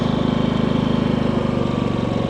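A Harbor Freight Predator 5000 watt dual-fuel inverter generator idles low and steady nearby with no load, a rhythmic fluttering hum that stays even throughout with no other sounds.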